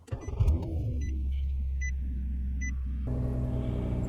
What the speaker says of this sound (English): So let me go ahead and start the vehicle.